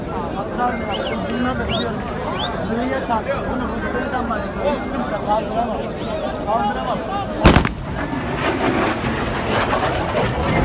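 A single sudden, loud boom like a bomb or sonic boom cuts through a noisy crowd on a street in Istanbul during the coup attempt, with people chattering and shouting all around.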